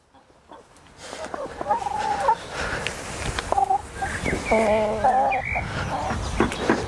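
Newly bought hens cluck and chatter close by in a fenced pen, with a rooster's louder calls mixed in; scattered bird noises continue throughout without a break.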